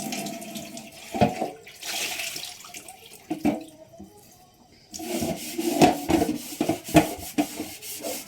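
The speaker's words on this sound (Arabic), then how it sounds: "نيجي بقى بالاسبونجة النضيفة اهي، معلهاش اي صابون، ميه بس اهو" A clean sponge scrubs dishes with plain water and no soap, giving close, rough rubbing strokes in bursts with short pauses between them.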